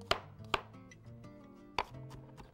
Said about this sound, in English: Let's chop up some garlic.